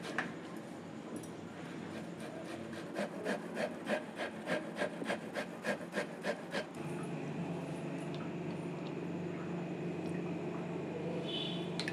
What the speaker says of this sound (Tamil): அதனால் நான் வந்து கேரட் துருவில் நல்லா நைஸாக திருவிக்கிறேன்